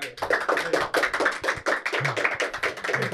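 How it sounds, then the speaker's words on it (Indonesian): Crowd applause from a group of people at an Indonesian football discussion show, dense rapid hand clapping filling about three seconds, loud and close with no talking over it. "Tepuk tangan dong."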